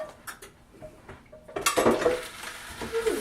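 Cauliflower grits are moved from a shallow pot into a deeper one. Scattered light clinks and scrapes of a utensil against the pots give way to a louder burst of scraping and clattering.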